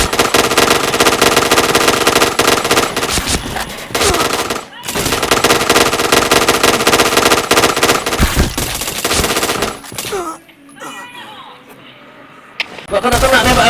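Rapid automatic gunfire rattles through a video game shooter in long sustained bursts, loud and dense, breaking off briefly around the middle and near the end where a voice talks over quieter game sounds.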